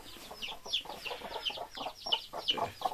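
Hens cluck inside a chicken coop, repeated short bright clucks in a loose rhythm, close and moderately loud, with no voices.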